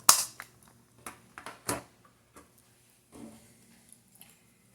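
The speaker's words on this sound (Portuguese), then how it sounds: "Então aqui você desdobrava aqui o teclado." A foldable keyboard for a Palm handheld is opened out in a quiet room, with a handful of sharp plastic clicks and snaps as its hinged sections unfold and lock, close by and with no talking.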